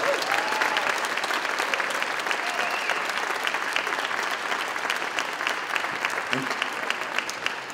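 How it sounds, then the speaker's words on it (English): A festival crowd in a city hall courtyard applauds Tim Wakefield, with a thick, sustained wash of clapping from many hands that stays loud throughout, plus a few scattered voices and cheers mixed in. "How about a nice round of applause with Tim Wakefield?"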